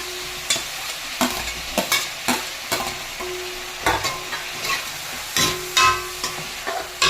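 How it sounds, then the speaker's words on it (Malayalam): Chopped tomatoes and onion sauté in a hot pan for pasta masala, a steady sizzle broken by repeated scraping stirs of a spoon every second or so, close and clear with no voices. "ഇതൊന്ന് വഴണ്ട് വരട്ടെ."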